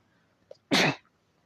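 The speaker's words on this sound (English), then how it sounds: "Excuse me, for that sneeze." A single loud, close sneeze bursts out from a person who is under the weather, preceded and followed by quiet room tone with faint small sounds.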